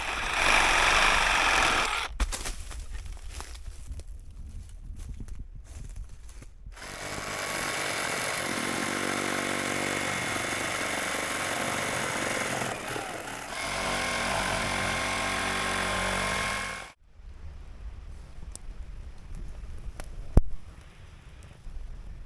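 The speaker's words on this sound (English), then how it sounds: "So let's go ahead and we're going to cut some small dead wood and get a little fire" A hand saw cuts small dead wood for a campfire in Tuscarora State Forest, with rhythmic rasping strokes up close, broken by short pauses and a quieter stretch near the end.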